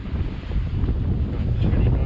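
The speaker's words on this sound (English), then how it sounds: "20 knots of wind blowing." Strong wind of about 20 knots roars steadily across the microphone aboard a sailboat at sea under its jib, a continuous loud low rush with faint water wash beneath.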